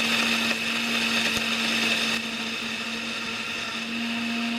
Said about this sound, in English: it sounded like the almonds was just destroying my blender